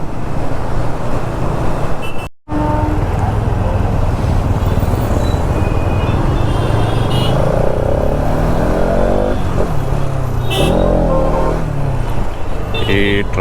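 Heavy city road traffic during a daily commute, with cars and motorcycles: a constant loud engine rumble and road hiss close by, with tonal horn-like blares rising out of the drone near the end.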